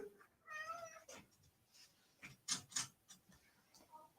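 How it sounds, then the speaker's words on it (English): A worked-up cat meows several times, some calls drawn out and some short and sharp, close and fairly clear, with quiet gaps and light ticking in between. "This cat is having a conniption"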